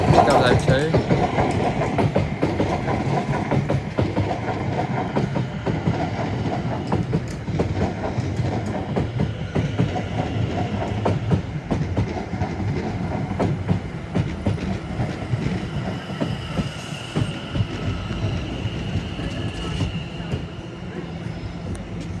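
A class 701 electric train, unit 701 002, runs into Clapham Junction from London Waterloo toward Shepperton, a steady rumble with clattering wheels throughout, someone talking over it.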